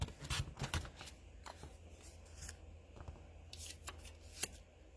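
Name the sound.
paper trimmer cutting patterned paper squares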